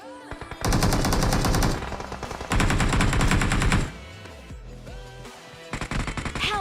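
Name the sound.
gunfire in the video game BGMI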